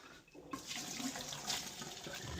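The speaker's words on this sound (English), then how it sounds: "I'm gonna drain it right now as we speak." Cooked pasta water pours from a pot into a kitchen sink, a steady, close gushing splash of draining liquid that runs continuously without pause.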